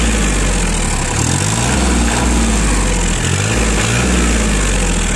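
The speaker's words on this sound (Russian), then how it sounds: "На газ двигатель реагирует просто моментально." A Shibaura four-wheel-drive 21 hp mini tractor engine runs steadily close by, a loud continuous diesel drone with a low throb and brief rises in revs, alone without talk.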